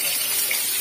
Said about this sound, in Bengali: কড়াইতে তেল দিয়ে এবার